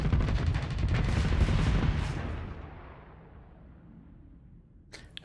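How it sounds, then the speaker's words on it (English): A loud, rumbling blast with crackling bursts in the Starsector space-combat game rolls on for about two seconds, then fades into a long dying tail, with a small sharp click at the very end. "Did I mention explosions in this game are really badass?"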